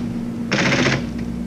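Keys on an APL computer terminal keyboard clatter in a quick half-second burst of rapid mechanical typing, close and crisp over a steady low machine hum.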